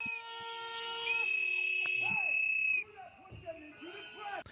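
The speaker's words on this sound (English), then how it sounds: "Now, the first thing I'm noticing here are the whistle sounds." Loud, piercing high-pitched whistles blow in long sustained tones, then give way to a quieter stretch of shorter chirping whistle calls and scattered noise.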